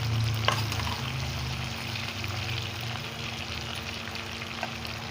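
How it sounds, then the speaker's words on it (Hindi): Okra (bhindi) hitting a hot pan with cumin and frying as it is stirred, a steady close sizzle with soft scraping and a few clicks of the spoon throughout. "ज़ीरा हो गया, अब हम इसमें भिंडियाँ शामिल कर देंगे।"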